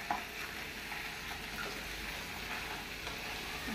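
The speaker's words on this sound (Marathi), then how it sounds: "पळय आता हांव तातूंत घालता क्रॅप्स. हे बरे मिक्स करून घेता." Crabs being stirred in a pan as they fry for crab xacuti, with a steady close sizzle and soft stirring scrapes running through the whole stretch, no talk over it.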